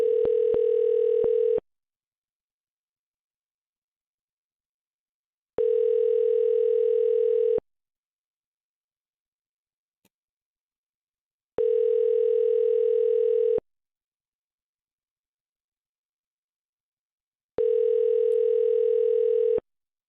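Telephone tone heard while calling a company: four identical steady buzzing tones, each about two seconds long, separated by roughly four seconds of silence, clear and alone with no talk.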